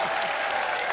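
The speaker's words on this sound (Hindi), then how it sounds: "चलिए तालियां।" Studio audience at a comedy talk show breaking into dense, continuous applause, loud and close throughout the brief burst with no voices on top.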